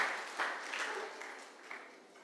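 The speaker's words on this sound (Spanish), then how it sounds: "Denle un aplauso al Señor" Worshippers at a Sunday church service clap briefly, a soft, somewhat muffled patter that swells slightly and then fades over a couple of seconds.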